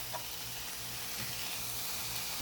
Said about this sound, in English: I'm going to add the ginger. Mix it together and allow it to saute for 3 more minutes